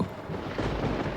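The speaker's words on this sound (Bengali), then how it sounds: "ভয়ের কিছু নাই, ওটা বৃষ্টির শব্দ।" Steady, dense roar of heavy rain with a deep rumbling low end, continuous and fairly loud throughout, no voices.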